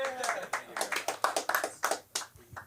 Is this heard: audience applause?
yes